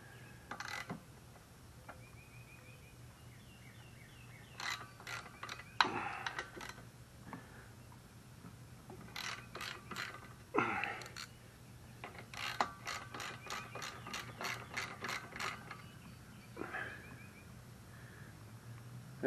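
On a Snapper SP-110 22-inch rear-wheel-drive mower, engine parts are tightened during a valve check and carburetor cleaning, with quiet intermittent ratchet clicks in short bursts and small metallic tool sounds over a low steady background hum.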